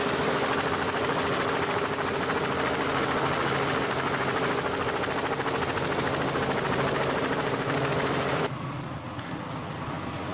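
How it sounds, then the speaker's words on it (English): Toy helicopter running nearby: a steady, dense whirring motor drone with constant buzzing tone, fairly quiet and unbroken, dropping slightly in level near the end. "Wow, very beautiful helicopter."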